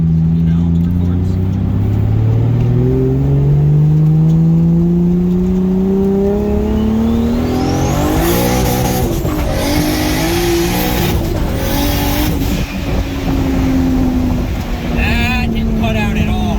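A Toyota Supra engine revs hard under full acceleration, its loud, close roar climbing steadily in pitch through the gears, with a voice shouting over the engine noise.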